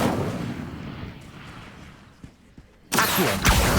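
A fiery spell blast from a Harry Potter video game erupts suddenly after a quieter rumbling stretch, loud and broad, bursting in near the end.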